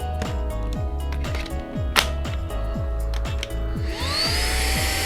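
A Hitz HB-5677 cordless 20V brushless vacuum cleaner runs with a steady motor whine broken by repeated clicking pulses. Near the end it rises to a higher, louder whir as the mode changes. No one speaks.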